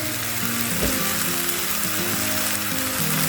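Green mango chutney bubbles and sizzles in a cooking pan as sugar goes in. A steady, dense frying hiss fills the whole stretch, close and fairly loud, with faint scraping underneath and no voice.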